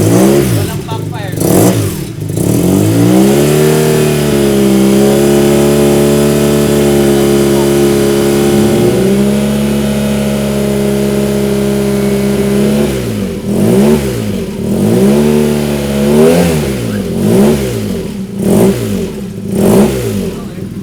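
An engine fitted with a YRS titanium exhaust revs loudly and close, holding a steady high drone and then blipping in repeated rising and falling bursts, with people talking over it.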